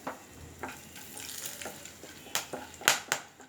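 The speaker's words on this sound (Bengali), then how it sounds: "তেলটা একটু গরম হলে আমি এখানে দিব দারচিনি, এলাচ, লবঙ্গ আর আছে গোলমরিচ। সব কিছুকে একটু ভেজে নিব।" Whole cinnamon, cardamom, cloves, peppercorns and bay leaf frying in hot oil in a pot, a soft sizzle broken by sharp spattering crackles and stirring scrapes that grow louder toward the end.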